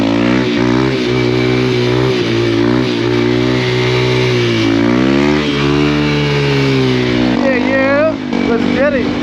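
A motorcycle engine revving in a private lot, rising and falling in pitch with steady harmonic drone and a sharper rev near the end, loud and close, with speech over it.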